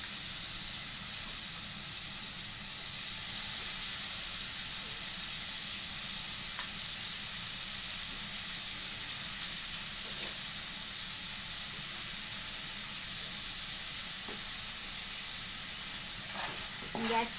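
Tomato masala with cashews and ginger-garlic paste cooking in a pan on a low flame gives off a steady, close sizzle and hiss throughout, with a few faint stirring clicks near the end.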